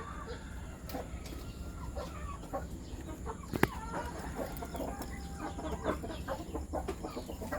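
Chickens clucking close by, a busy run of short clucks and squawks with one sharper cry partway through over a low background hum, no talk.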